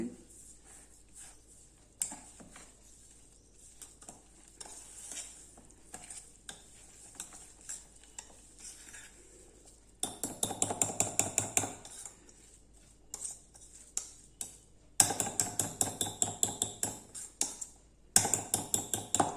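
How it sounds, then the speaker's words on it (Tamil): A whisk rhythmically clicks and scrapes against a bowl in quick bursts, louder in the second half, stirring a thick rava idli batter. "ஒரு விஸ்க் வச்சு நல்லா கலந்துட்டு"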